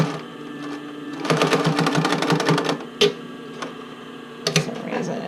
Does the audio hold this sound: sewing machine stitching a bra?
yes